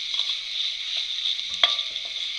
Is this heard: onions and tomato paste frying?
yes